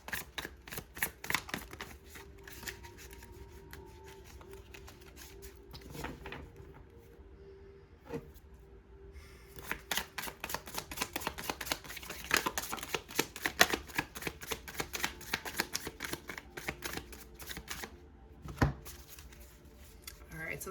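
Tarot cards shuffled continuously by hand, a steady papery riffling and flicking with a few louder slaps, close and clear, with a voice talking softly at times over it.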